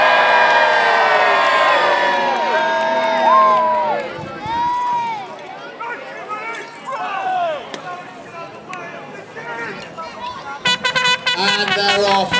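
A large crowd at a knights' jousting tournament at Dover Castle cheers and whoops loudly, the roar fading into scattered shouts and children's cries, with an announcer's amplified voice heard.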